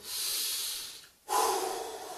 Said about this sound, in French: inspirer par le nez et expirer par la bouche. Comme ceci